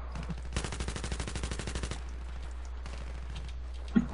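Sustained automatic cover fire in Battlefield 3: a steady, rapid string of gunshots for about a second and a half, then quieter scattered shots and battle noise, with no talking.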